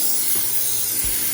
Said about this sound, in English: I'm gonna start off by spraying these with some Pam, because the pork bellies will stick.